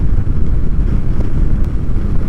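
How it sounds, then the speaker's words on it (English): Strong desert wind in Borrego buffets the microphone with a loud, continuous low rumble and gusty roar, with no other sound standing out. "it's really windy out here."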